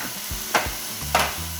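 Vegetables and shrimp are stir-fried in a pan, with a soft steady sizzle and two scraping stirs close by.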